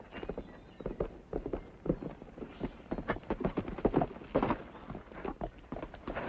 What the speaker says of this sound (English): That's Kate's horse.